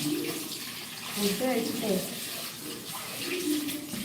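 Dishes are washed under a running tap in a home kitchen, with a steady rush and splash of water continuing throughout while a person talks over it.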